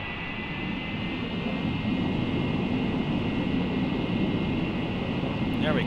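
An MD-80 jet in Flight Simulator 2020 runs its thrust reversers at full reverse, a loud, steady broadband engine roar that swells slightly and holds.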